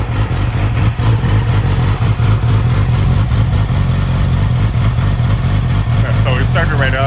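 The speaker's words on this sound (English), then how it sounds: "So it started right up." A 2008 Yamaha R6 sport motorcycle running just after startup, its engine giving a loud, steady close-up idle rumble for the whole stretch, with someone speaking briefly near the end.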